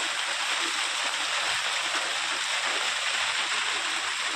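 Light rain falls during a wet evening, producing a steady, even hiss of close drops that runs unbroken from start to finish with no voices.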